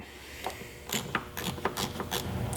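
A socket wrench with an 11/16 12-point socket ratchets a bolt on a grab handle mount, giving a few quick clicking bursts spaced irregularly, close and moderately loud.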